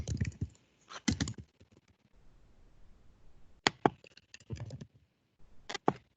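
Keys on a computer keyboard clack in quick irregular bursts as a plan name is typed, with short pauses between clusters of sharp, close taps and no talking.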